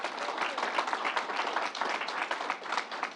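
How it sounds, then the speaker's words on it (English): Steady applause from an audience gathered at a fairgrounds distribution site, a thick wash of many hands clapping at an even level, close and continuous, with a voice faintly mixed in under it. "Let's give Fanny a round of applause."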